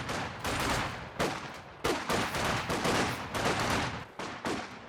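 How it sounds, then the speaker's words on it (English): Machine gun fire in the Company of Heroes 2 battle game, sustained bursts of rattling shots separated by brief gaps, loud and dense, with no talking. "Probably need to get this machine gun in the mix now as well."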